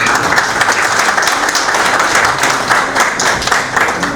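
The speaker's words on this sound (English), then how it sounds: "An extended applause for Someshji and his team" Steady, dense applause from an audience at a nuclear energy conference session, many hands clapping continuously at even loudness throughout, with no talk over it.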